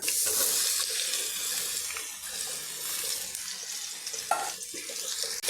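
Cut bottle gourd is stirred with potatoes in hot oil in a pan, giving a steady sizzle and hiss with occasional scraping knocks of the spoon, moderately loud, no talking.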